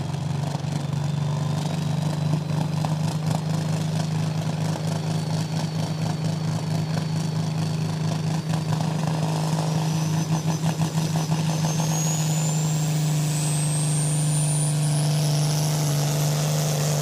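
Roaring engine of the White Shadow pulling tractor, around 2,200 horsepower, at a tractor pulling competition in Knutwil, a loud steady drone with a rising whine building over the run, no talking.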